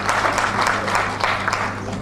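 Shareholders at a company annual general meeting applaud together, a continuous wash of clapping from a seated audience heard at a moderate distance, with a low steady hum beneath it.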